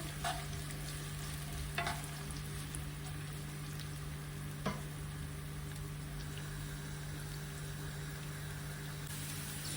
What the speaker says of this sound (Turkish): Soğanımız güzelce pembeleşene kadar kavrulacak arkadaşlar.